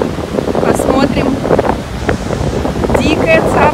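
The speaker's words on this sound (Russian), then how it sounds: "Тут такой ветер, я не знаю, будет слышно или нет." Strong outdoor wind gusting across the microphone in Orlando, a steady broadband rush with faint water-like wash, heard alone at close range for a few seconds while a heron lands nearby.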